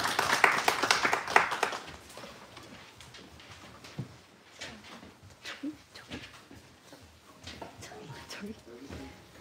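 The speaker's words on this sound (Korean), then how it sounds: "우리 박수로 같이 맞이하겠습니다." A church congregation gives brief applause to welcome a young speaker during a live worship service, loud clapping for the first two seconds, then fading into murmuring voices and scattered sounds.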